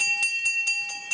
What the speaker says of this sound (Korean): 점심시간을 알리는 종소리가 울립니다.